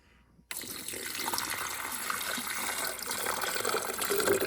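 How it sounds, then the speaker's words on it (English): Water is poured into a coffee maker's reservoir, a steady close gushing stream that starts abruptly after a brief quiet moment and runs on evenly. "Just gonna add our water."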